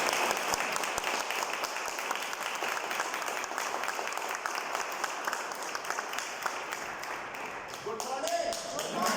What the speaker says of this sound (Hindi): रविंद्र सर का एक बार जोरदार तालियों से स्वागत करना चाहते हैं